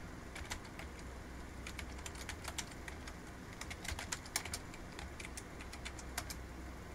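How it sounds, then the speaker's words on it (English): Quiet clicking of a computer keyboard as a username and password are entered, irregular bursts of keystrokes close by with no talking. "type in your username and password"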